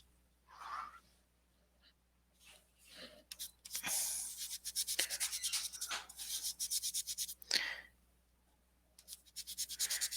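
A Versa Magic Dew Drops ink pad rubs across paper in bursts of quick, close scratchy strokes, rapid back-and-forth rasping separated by short pauses.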